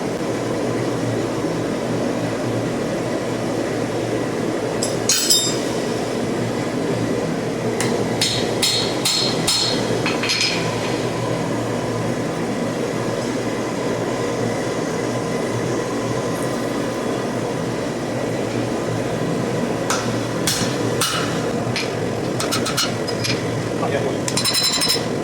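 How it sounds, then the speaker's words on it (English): Hot forging tongs are struck with a hammer over a drift, giving sharp metallic ringing blows in short clustered bursts over a steady background hum of the forge. "we've had the tongs in the forge now, so we're going to start drifting them to 10 mil."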